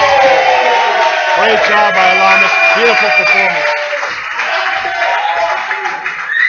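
A lively crowd at a grappling match cheers, whoops and claps continuously while a commentator talks over the noise.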